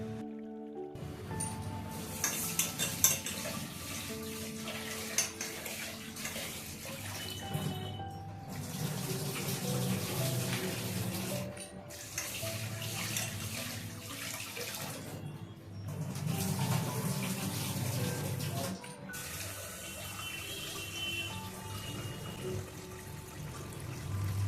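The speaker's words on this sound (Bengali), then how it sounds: "চালটাকে ধুয়ে ভাত বসিয়ে দেবো।" Rice being rinsed in water for cooking, a steady run of splashing and swishing water with brief pauses between washes, close and fairly loud throughout, no voices.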